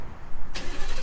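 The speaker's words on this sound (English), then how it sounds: "I'll crank it up here for you." A lifted Ford pickup with Gibson stainless steel dual exhaust cranks over and fires, a short starter whirr breaking into a sudden loud engine catch partway through, close by and without voices.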